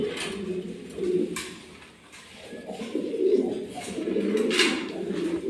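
Pigeons of a running breed coo in a loft with several pairs, soft low throaty calls repeating close by and fairly steady throughout.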